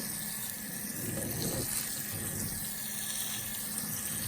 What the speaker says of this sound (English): Now we're going to take each tray and we are going to water it in fairly heavily